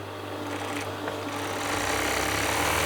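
An overlocker sews the edges of a fabric cushion cover with a continuous fast mechanical whir and hum, close by and growing slightly louder.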